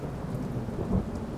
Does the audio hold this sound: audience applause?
no